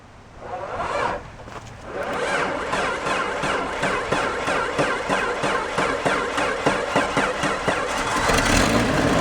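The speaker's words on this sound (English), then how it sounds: "I guess this is a cold start, huh?" A Ford Mustang engine cold-starts, cranking briefly before catching, then settles into a loud, rough, rhythmic idle with a pulsing exhaust note that continues steadily to the end.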